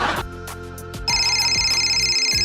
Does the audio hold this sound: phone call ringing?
yes